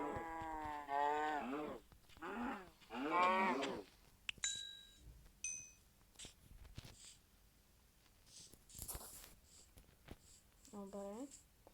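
Cows mooing in the video game Minecraft, several long, wavering low moos in the first few seconds followed by short game effects and another moo near the end.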